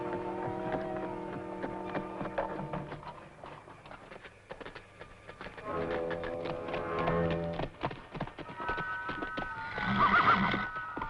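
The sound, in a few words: horses neighing and hooves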